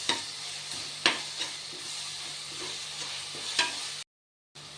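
Paneer biryani ingredients sizzle and fry in oil while being stirred in a pan, a steady close hiss with a few sharper scraping stirs, cut by a brief gap of silence near the end.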